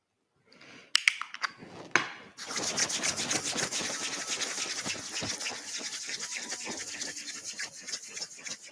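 Massage oil is rubbed into the skin with soft, steady, close-up friction strokes, preceded by a few small clicks and taps.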